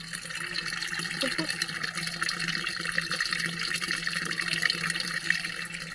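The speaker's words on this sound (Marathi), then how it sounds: "पाणी भरायला लागली" Water running steadily into a container, a continuous splashing rush with faint voices in the background.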